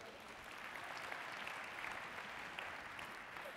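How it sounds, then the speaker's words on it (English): Dense, even applause from a sizable audience welcoming a speaker to the stage, a continuous wash of clapping held at steady volume from start to finish, fairly faint and distant. "Give him a warm round of applause as he comes to stage"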